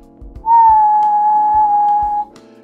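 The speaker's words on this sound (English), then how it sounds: "If you're able to whistle a high note, and then whistle a low note." A person whistles one steady, clear, sustained note for nearly two seconds, loud and close. Soft low thumps sound underneath it.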